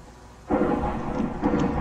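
Thunder rumbles during a lightning storm in a video game, a sudden deep roll that starts partway through and swells again in waves over the rain-like hiss, loud and close.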